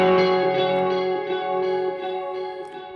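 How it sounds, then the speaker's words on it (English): Electric guitar run through a chorus effect with sweeping echo on a Line 6 HX Stomp, a sustained, shimmering chord ringing out with swirling modulation and trailing repeats, played alone and fairly loud. "Then I've got the chorus sound, which brings in a bit of sweep echo on the HX Stomp."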